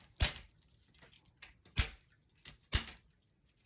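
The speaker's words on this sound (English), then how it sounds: "I'll just go around and snip the ends here" Scissors snipping the ends off zip ties on a wire wreath frame, three sharp crisp clicks spaced about a second apart, close and quiet with faint handling noise between.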